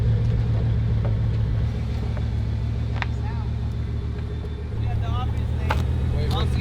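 Steady engine drone and road rumble from inside a moving Bugatti, constant and close under speech, with faint chirps and clicks from the cabin.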